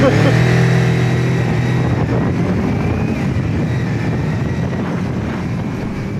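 A TARO GP1 400 sport motorcycle engine and exhaust drone steadily nearby, with a faint rev rising and settling under wind noise while people talk.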